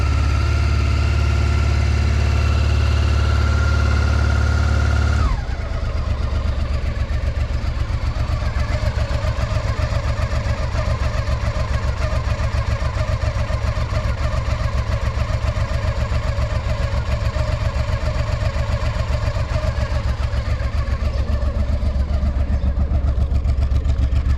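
A 1996 Honda Africa Twin 750 RD07 motorcycle starts with a short tone before the engine catches, then settles into a fast, steady, close-up idle on choke with an even mechanical chatter throughout.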